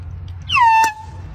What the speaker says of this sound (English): Bring an air horn to a golf course?